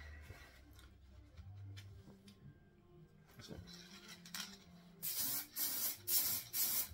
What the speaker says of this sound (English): I'm just going to give it a quick puff with some clear lacquer.